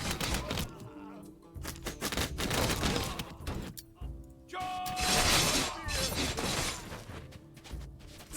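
Archers shooting in a Humankind battle, bursts of rapid clattering volleys and sharp impacts in clustered waves, with talk over the action.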